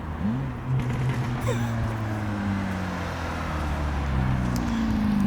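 A car accelerates past near a supercharged Acura TL Type-S, its engine note rising and sweeping in pitch as it passes, heard over steady road and wind noise.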